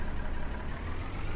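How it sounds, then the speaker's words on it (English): Tractor engine in the Farming Simulator video game, set on an alpine farm, running as a steady low idle-like rumble, close and continuous with no talk. "Good tractor sound."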